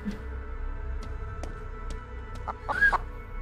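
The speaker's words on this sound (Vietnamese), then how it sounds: "có con gà to nhưng cũng có những con gà nhỏ các bạn ạ" Chickens, both large and small birds, give clucks and short calls over a steady low rumble, with a louder burst of clucking near the end.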